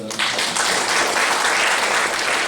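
A church audience claps for Jesus during a sermon, a dense, steady wash of applause that starts abruptly and holds loud throughout.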